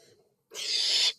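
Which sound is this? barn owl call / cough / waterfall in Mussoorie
barn owl call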